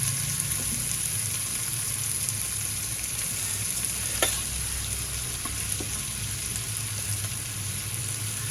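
Onion frying in a pan with curry leaves and salt, then capsicum added and stirred, producing a constant dense sizzle with a few sharp spatula clicks, close and steady throughout with no talking.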